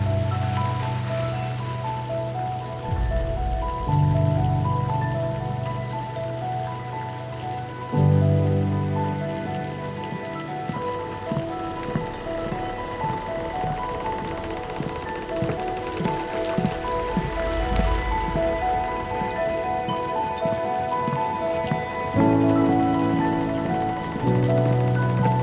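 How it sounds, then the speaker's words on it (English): Steady outdoor rain patters on surfaces on a moody evening, a continuous wash of drops running throughout, with low tonal music or hum layered beneath the falling water. "I don't think this rain is going away, going anywhere anytime soon"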